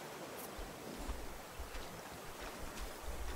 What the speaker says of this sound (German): Warum sind die Wellen so hoch?